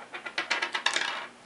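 A die clatters and bounces across a tabletop during an Elder Sign board game, a quick run of light, close clicks and taps that settle over about a second, with one last tap at the end.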